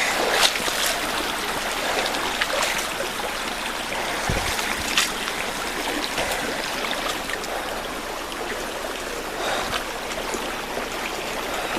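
A creek flows steadily in an outdoor meadow setting, a continuous close babble and trickle of water running over stones, with a few brief louder splashes and rustles mixed into the constant rush.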